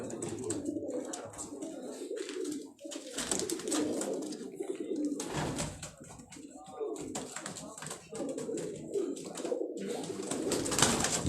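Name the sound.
pigeons cooing on a Karachi rooftop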